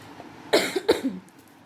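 One person with a cold coughs twice in quick succession, close and fairly loud, and a softer throat sound follows in an otherwise quiet room.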